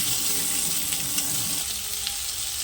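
Chopped potatoes frying with salt, turmeric and spices in hot oil, giving a steady close sizzle with faint stirring scrapes throughout and no talking.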